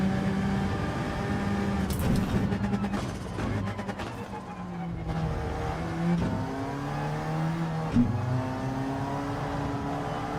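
A race car engine in a driving game time trial, revving hard with droning, shifting engine tones that climb and fall as the throttle is worked, fairly steady and close.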